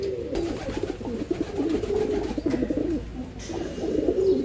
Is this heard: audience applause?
no